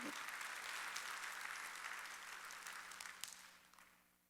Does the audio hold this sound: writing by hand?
no